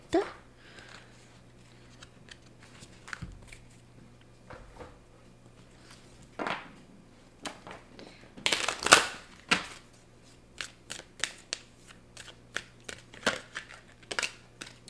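Tarot cards are handled and shuffled in short, irregular bursts of flicking and riffling, close and fairly crisp, with a low steady hum underneath and brief pauses between handfuls.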